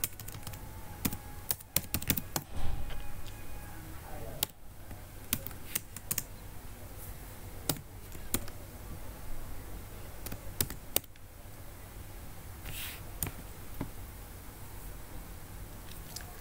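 Code is typed in rapid, uneven bursts on a computer keyboard, the keys clicking close and steady with short pauses between runs and a few louder key strikes.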